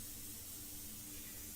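An airbrush sprays India ink onto a painting surface in a steady, even hiss that stays close and continuous with no breaks.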